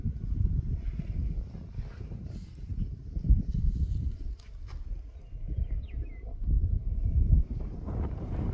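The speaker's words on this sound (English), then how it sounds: "Starting to get a little windy out here." Wind blowing outdoors in gusts, a steady low rumble of wind noise buffeting the microphone, rising and falling throughout.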